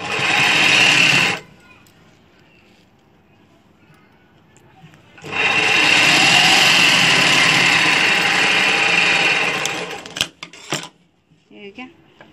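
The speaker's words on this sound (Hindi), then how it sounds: "तो ये कोर वाले साइड से हमें इसकी सिलाई लेंगे।" An electric sewing machine stitches a dhoti shalwar in two runs, a short burst first, then a longer steady whirring run of several seconds after a quiet pause, followed by a few handling clicks.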